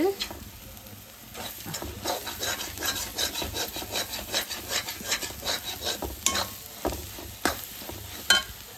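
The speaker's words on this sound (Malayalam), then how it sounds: "കൊഞ്ചിട്ട് ഒരു ശകല നേരം മിക്സ് ചെയ്യുക" Prawns being mixed by hand for a pepper prawn curry, giving close, repeated wet rubbing and squelching strokes in an irregular rhythm, fairly soft, with no talking.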